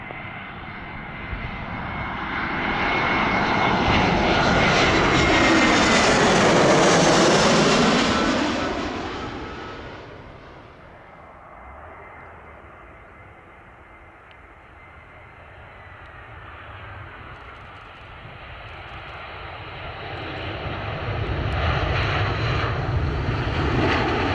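An airliner, Shamrock 204, passes close while landing on runway 05 right, its engine roar swelling with a falling Doppler sweep, fading, then rising again as a second, more distant jet rumble.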